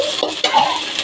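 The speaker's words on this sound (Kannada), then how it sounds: "ಚೆನ್ನಾಗಿ ರೀತಿ ನೋಡಿ ಈ ರೀತಿ ಫ್ರೈ ಮಾಡ್ಕೊಳ್ಳಿ." Egg bhurji masala with chilli powder sizzles in a pan while being stirred, a brief close burst of frying hiss with a couple of spatula scrapes.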